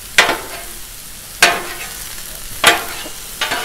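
Small steak fillets sizzle on a hot 36-inch Blackstone griddle, with four sharp bursts of frying hiss as they are turned or pressed, each fading into a quieter background sizzle.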